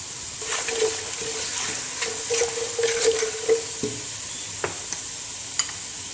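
Turmeric, bay leaf, black cumin and spices fry in a pan with steady soft sizzling and occasional stirring scrapes, close and moderately loud, with no talking.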